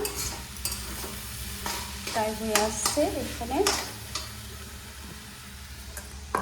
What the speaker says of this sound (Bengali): শাক ভাজা